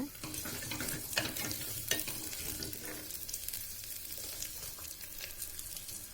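Onions sauté in oil with fenugreek seeds for an okra tamarind curry, giving a steady sizzle with brisk spoon scrapes early on that settle into quieter, even frying.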